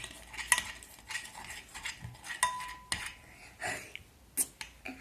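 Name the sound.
stirring yellow slime mixture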